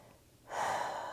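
Quiet at first, then a single long, deep breath drawn in and held during a yoga puppy pose, soft and close with an airy rush.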